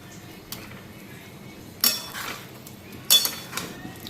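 Fried lentil dumplings and potatoes dropped into a pan while cooking, two sharp clattering impacts with a few lighter clinks between them, close and fairly quiet.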